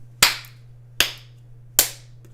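Three sharp hand claps spaced evenly about three-quarters of a second apart, each crisp and close, with a steady low hum beneath them.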